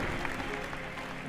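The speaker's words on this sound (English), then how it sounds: "Let's have a huge round of applause for Aaron Canet." Audience applause at a MotoGP awards ceremony in Barcelona, a steady dense clapping that fills the whole short moment at close range.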